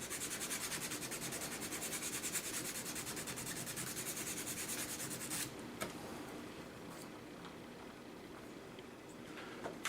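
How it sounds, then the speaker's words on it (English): Fine sanding on the thin barrel of a plastic model Panzer tank, a close, soft, steady rubbing scratch that stops about halfway through, followed by quiet with a few faint taps. "So I'm going to use this to sand the back side of this, the opposite side of this barrel where the other seam is."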